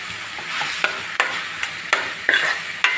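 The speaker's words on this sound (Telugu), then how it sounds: "దీంట్లో నేను చేసుకున్న మసాలా పేస్ట్ వేస్తున్నాను." Homemade masala paste sizzling in a hot pan for a prawn, drumstick and egg curry, with a spoon scraping and stirring in sharp, regular clinks over the steady frying hiss.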